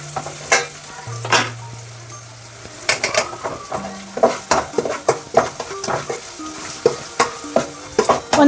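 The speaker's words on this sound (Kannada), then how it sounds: "ಇವಾಗ ಜಜ್ಜಿರೋದೆಲ್ಲ ಹಾಕಿ ಫ್ರೈ ಮಾಡ್ಕೊತಾ ಇದ್ದಾರೆ." Crushed cumin and garlic fry for rasam while a spoon stirs and scrapes the pan, the sizzle broken by irregular clinks and knocks, close and fairly loud, with a low electrical hum underneath.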